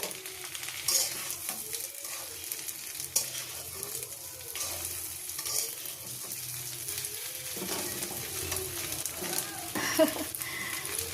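Rohu fish head and rice being stirred in a wok, with steady sizzling frying under scraping stir strokes that continue evenly throughout at close range.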